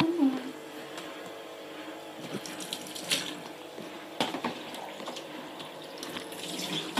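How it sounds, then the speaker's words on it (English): Tap water runs steadily into a bath as bubbles are rinsed off a puppy, with splashing and sloshing as the dog moves and faint voices in the background. "come on, we'll get your bubbles off. Cooper."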